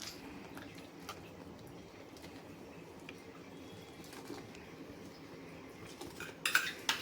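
Palkova is stirred into milk in a metal pot with a spoon, soft scraping and gentle liquid stirring that runs steadily and ends in a few louder clinks against the pot rim.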